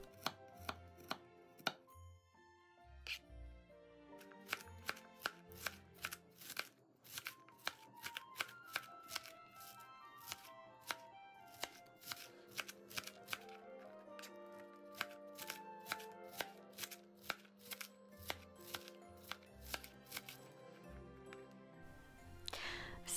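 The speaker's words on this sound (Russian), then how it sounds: "а капусту кому как удобно. Я нарежу ножом" Cabbage is chopped with a knife on a board, a long run of sharp, close cutting taps in a quick, steady rhythm that speeds up in places, with no talking.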